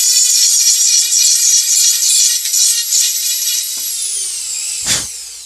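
A Dremel 4000 rotary tool carves a wooden wood-spirit face, giving a loud, steady high-pitched whine with small shifts in pitch as it bites, then a quick spin-down near the end with no talking.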